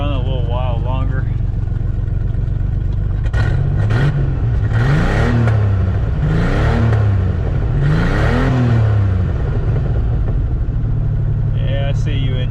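A Ford Bronco II engine idles in snow after freezing up, with a steady low rumble, revving up in a few swelling pulses before settling back, while a person talks nearby.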